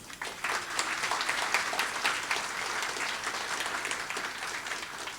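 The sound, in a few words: applause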